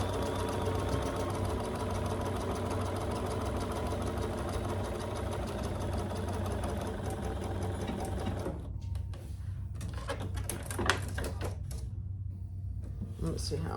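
A sewing machine stitches over the folded edge of a tote bag strap, its rapid mechanical whir running steadily and close, then breaking into short stop-start bursts toward the end.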